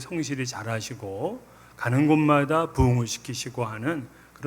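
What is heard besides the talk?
None of the usual background noises is heard.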